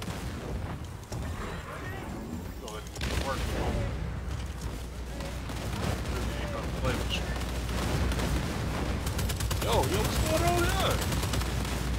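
Cluster grenade explosions and bursts of gunfire from the Second Extinction shooter game, a dense, continuous battle din of booms and rapid shots mixed under excited talking.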